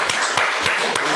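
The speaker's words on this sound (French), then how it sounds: "On applaudit, bien sûr" Audience applause at an engineering conference after a talk on central bank digital currencies, a dense steady wash of many hands clapping, with a few sharper individual claps standing out.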